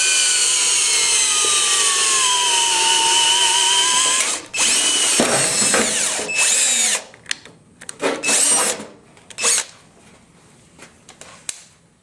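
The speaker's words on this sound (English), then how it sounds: "We're going to drill a hole." Power drill boring a hole through the plastic lower cowling of a window AC unit, a loud steady whine that shifts pitch, then stops and starts in short bursts.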